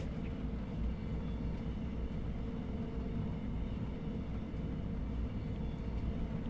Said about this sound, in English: Look at that lovely train.